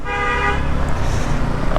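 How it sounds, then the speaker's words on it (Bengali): A vehicle horn honks loudly on a road during a motorcycle ride, a sustained blast at the start followed by traffic and engine rumble. "ও এত হর্ন দিচ্ছে কেন?"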